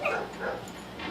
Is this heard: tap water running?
no